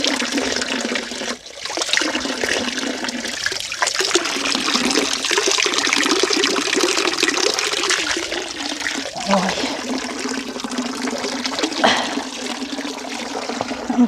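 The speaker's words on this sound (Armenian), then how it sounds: "Եվ ես փորձեմ ջուր խմել" Water runs from an outdoor spring as someone drinks from it, a close, steady gushing flow that continues throughout with brief changes where the stream is interrupted.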